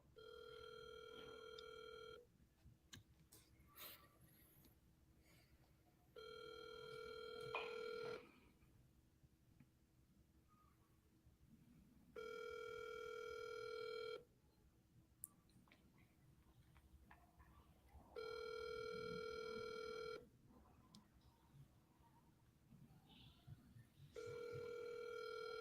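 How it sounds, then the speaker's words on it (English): An outgoing phone call rings unanswered, repeated ringback tones in regular bursts of about two seconds separated by longer silent gaps, faint and clear with no talk over them. "she ain't answering that phone"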